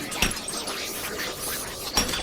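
Glass from a mirror in the Salad Fingers cartoon is broken into pieces, with two distinct sharp shattering crashes about two seconds apart and faint clinking debris between them.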